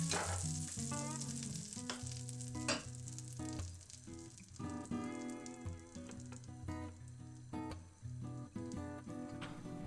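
A 5 to 6 inch strawberry pancake fries in butter and oil in a large pan, giving a constant close crackling sizzle with scattered pops and spits throughout.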